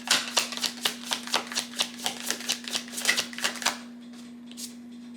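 Tarot cards shuffled by hand in a steady rhythm of papery riffs and snaps, close and crisp over a faint constant hum, then stopping near the end with one last soft flick.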